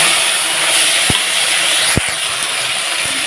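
Spice paste hits hot oil already browning cumin and bay leaf in a pan, producing a loud, close, steady hiss of frying with a few sharp ticks of a spoon.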